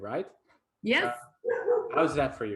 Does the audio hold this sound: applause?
no